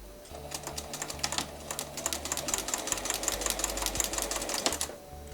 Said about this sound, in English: I'm going to sew the 9th square onto one of these sets of 2.